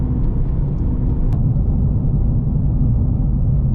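A car driving at steady speed toward a steakhouse, a constant loud low rumble of engine and road noise with no breaks and no voices.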